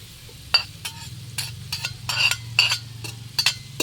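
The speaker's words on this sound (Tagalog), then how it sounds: "Lagyan natin yung sibuyas bawang" Onion and garlic sautéing in oil left over from frying chicken, with brisk bursts of stirring and scraping, light clinks of a utensil against the pan and a low sizzle underneath, no voices.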